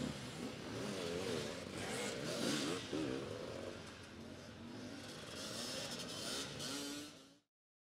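A KTM 500 EXC four-stroke motorcycle racing in an enduro event, its engine revving and droning steadily at a distance, rising and falling with throttle before cutting off abruptly.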